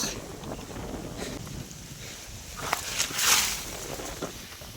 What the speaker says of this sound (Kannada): ತುಂಬ ಗಾಳಿ ಇದೆ ಅಯ್ಯಪ್ಪ